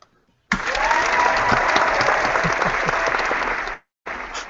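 Audience applause at an IndieWebCamp online hackfest demo session, a burst of steady clapping that starts abruptly, holds for about three seconds, cuts off, then briefly resumes.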